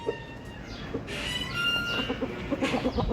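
Chickens and a rooster cluck and squawk nearby in a short burst of repeated calls, rising in intensity with rapid clucks near the end, alone without talk.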